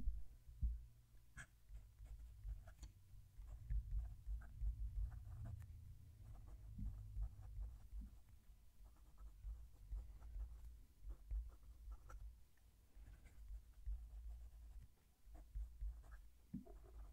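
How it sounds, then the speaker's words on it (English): Nib scratching from a fountain pen made from Brooks Blanks material, close-miked on paper, faint irregular strokes and taps with soft low rumbles underneath, no talking. "We'll move the mic and do some writing."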